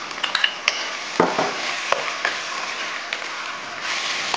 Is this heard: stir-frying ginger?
yes